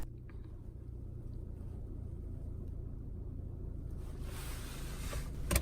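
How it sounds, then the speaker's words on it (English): A car engine idles steadily after restarting without a key, a continuous low rumble with a brief rustle and clunk near the end. "The engine firstly stops. Then, after opening and closing the driver's door, it starts up again."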